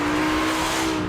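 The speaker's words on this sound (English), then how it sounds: "There's a loud howl when you hop on the throttle." Audi R8 V10 engine howling loudly under throttle, a steady sustained high-pitched roar with a strong constant tone throughout, close and alone.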